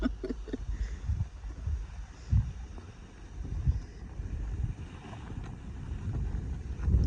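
Strong wind buffeting the microphone out on the water during a sailing lesson, low rumbling gusts that swell and fade in uneven surges, loud and close throughout.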